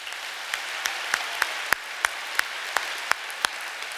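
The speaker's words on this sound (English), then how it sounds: "give yourselves a huge round of applause for being here today" An audience at a science exhibition opening ceremony claps for itself, a sparse, fairly even series of separate claps at a moderate distance in a large hall.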